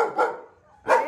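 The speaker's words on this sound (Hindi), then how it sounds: "ये भौंकने लगी" A dog barks twice, close by, with a short pause between the two sharp barks.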